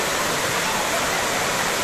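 A waterfall near Cherrapunji (Sohra), Meghalaya, roars as a dense, constant, loud rush of falling water, heard close and unbroken.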